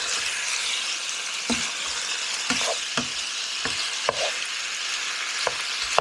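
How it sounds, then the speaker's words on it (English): Chicken pieces sizzle in a pan for a creamy honey-and-tomato dish, with a steady hiss of frying broken by sharp intermittent scrapes and clacks of a utensil stirring and turning the meat. "let me go ahead and stir this up real quick"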